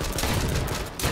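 Dense automatic gunfire in the H1Z1 video game, a loud, continuous burst of overlapping shots with no gaps, close and filling the whole short moment.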